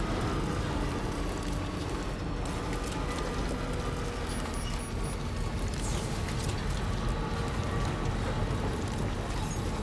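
Steady rain hissing in a game world, a dense, even wash of droplets under a low background drone, constant and fairly close with no pauses.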